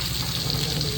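Garlic and onion fry in a pan with a steady, close sizzle and faint stirring throughout, with no voices.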